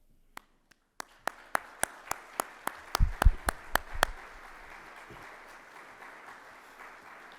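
At a breakfast awards event, a few sharp isolated claps quicken into a short burst of audience applause for the board members, then fade into murmuring room noise.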